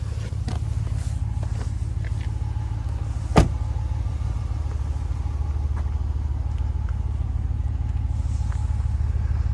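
A 2022 Wagoneer Series II with a 5.7 liter V8 rumbles in a steady, deep low idle throughout, joined by one brief sharp click partway through, with no voices.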